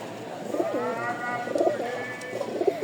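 Rajshahi flying pigeons coo close by in a steady run of soft, repeated throaty calls, with no voices over them.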